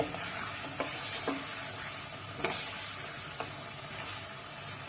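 Peshawari mutton karahi seasoned with garam masala and black and white pepper sizzles steadily in a pan, while a spoon scrapes through it in a few distinct strokes. No one speaks.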